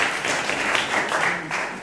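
An audience applauds at a Miss pageant preselection event, a dense, steady burst of many hands clapping that stays loud and close for its short length.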